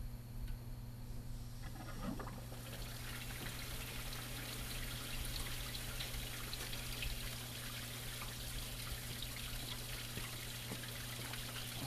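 Water runs steadily through a car heater core during a flush, a constant hissing trickle with a low hum underneath, starting after a brief quiet moment.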